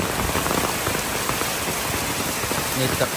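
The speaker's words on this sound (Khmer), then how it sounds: "ទឹកធ្លាក់ខ្លាំង" Heavy rainwater pours down from above during a flooding downpour in Battambang, Cambodia, a loud continuous splashing roar with dense drumming on surfaces and brief faint voice-like sounds near the end.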